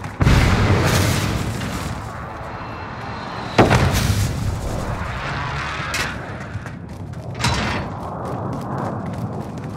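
Precision strike explosions in a video game boom repeatedly amid a continuous roar of aircraft engines and mechanical rumble, with sharp loud blasts near the start, in the middle and toward the end.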